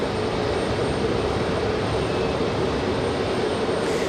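A Republic Airways jet departs Raleigh-Durham International Airport for Chicago O'Hare, its engines giving a steady, loud broadband roar that holds unbroken throughout.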